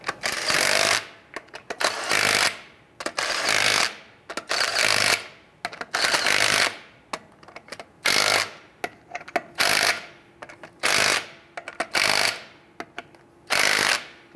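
Bursts of an impact wrench snugging lug nuts onto a rear wheel of a 1994-2004 Ford Mustang, about a dozen short, loud rattling runs separated by brief pauses, with no talking.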